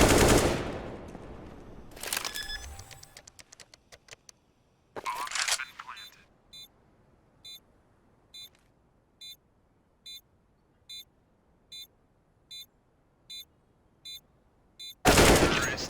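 Rapid gunfire bursts from the video game CSGO at a pro LAN tournament, loud at the start, followed by a run of evenly spaced short beeps and another loud burst at the end.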